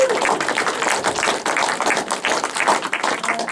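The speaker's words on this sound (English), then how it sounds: "Can you give a massive cheer, please, for Charlie Beddoes?" Indoor audience at a talk at Towner, Eastbourne, applauding in a dense, steady patter of hand claps, close and fairly loud, holding for several seconds before tapering at the end.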